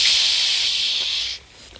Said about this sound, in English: Now we want to fry our banana and our plantain.